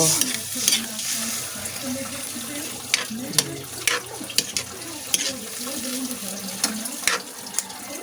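Escabeche simmering in a pan as broth is added and stirred, a steady close sizzle and bubbling broken by sharp clinks of a spoon against the pan, with faint talk now and then.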